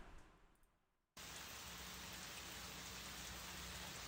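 Rain on a summer's day, a steady, dense hiss of falling drops that cuts in abruptly after a brief quieter lead-in, then continues evenly, soft and unbroken, with no voices.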